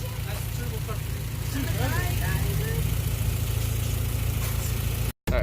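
A Hyundai Genesis engine with a K&N air intake idles in a steady low drone, with faint voices talking over it and a brief dropout near the end.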